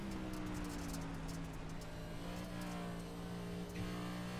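A race car engine in an iRacing dirt race at Bristol drones steadily at a constant pitch, and the throttle gives small lifts and dips. The sound is continuous and fairly close, with no talk over it.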